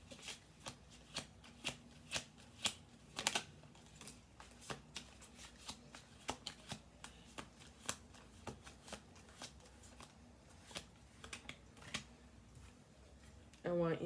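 Playing cards riffled and shuffled repeatedly at close range during a tarot-style collective reading, a steady run of crisp flicking bursts over about fourteen seconds, with a soft clatter at the end.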